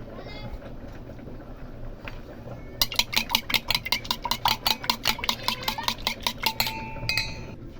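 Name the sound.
mixing egg white and banana hair shampoo in a bowl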